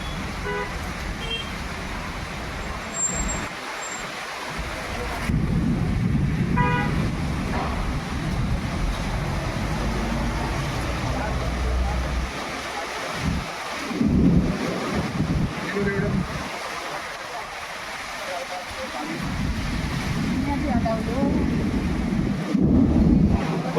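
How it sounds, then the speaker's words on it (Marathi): Stormy wind with rain sweeps across a Konkan coastal area in a continuous loud roar with stronger gusts, and a voice speaks at times over it. "वादळी वारा मात्र अजूनही चालू आहे. त्यातून पाऊसही पडतोय."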